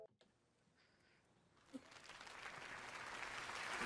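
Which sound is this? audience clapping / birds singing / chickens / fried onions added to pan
audience clapping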